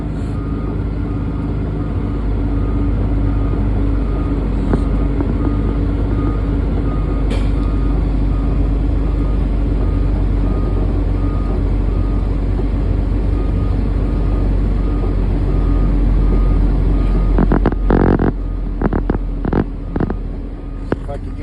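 A truck backing a trailer into a small driveway, with a loud constant diesel engine drone heard from inside the cab, a brief rattle, and a series of sharp beeps or clicks near the end.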